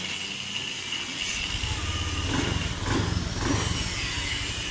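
Honda Beat scooter engine running just after the ignition is switched on, the bike suffering sudden power loss and sputtering; a steady close mechanical hum with slight swells in revving and no voices.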